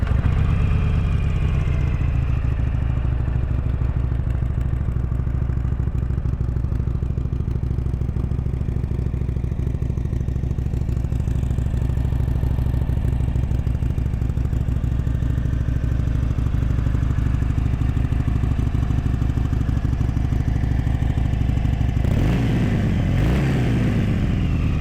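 A Harley-Davidson Sportster 883 Iron XL883N motorcycle engine runs at a steady idle, loud and close, with a brief shift or rev near the end and no talking.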